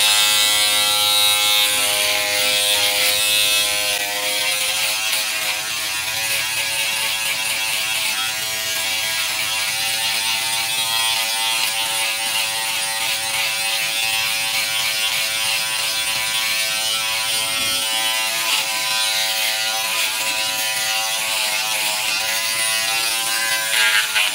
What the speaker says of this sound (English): Let's do the same with the armpits and use a shaver and these trimming elements.